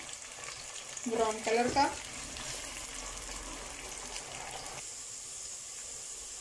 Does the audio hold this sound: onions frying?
yes